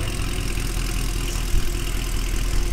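A Mercedes C63 engine runs loudly nearby, a dense, steady rumbling drone with a slight bump in the middle and no voices over it.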